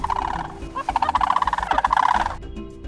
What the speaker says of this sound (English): Sandhill cranes are able to emit these noises due to their enlarged tracheas that they have.